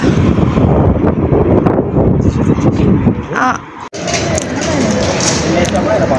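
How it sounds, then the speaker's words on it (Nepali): Cold, gusty wind buffets the microphone with a low, rushing roar while a person talks, briefly dropping before picking up again, at the University of Wolverhampton in the UK. "कस्तो चिसो छ नि हावा त्यस्तै चल्छ"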